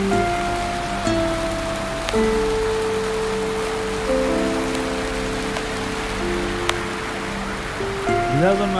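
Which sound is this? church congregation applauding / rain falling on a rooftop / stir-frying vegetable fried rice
rain falling on a rooftop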